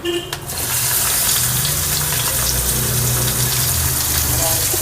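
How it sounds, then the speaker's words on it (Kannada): Chopped onions sizzle and fry in oil in a pan for sambar, a steady, loud, continuous crackling hiss that stays even throughout. "ಈರುಳ್ಳಿ ಸ್ವಲ್ಪ ಫ್ರೈ ಆದಮೇಲೆ ಟೊಮೆಟೊ ಹಾಕೋಣ."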